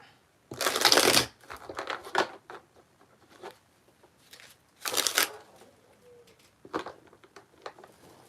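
Shuffling a Divine Guidance Oracle card deck, with two loud riffling bursts separated by softer card slaps, taps and rustles, close and alone without speech.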